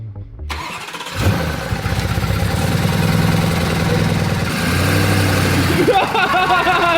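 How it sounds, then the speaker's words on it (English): A bent, damaged Lamborghini Urus starting up, a cranking burst followed by a steady, loud rumbling idle with a brief rev near the end, with people talking over it. "start it, put it in reverse and see if it will just drive back even though the wheels are like that"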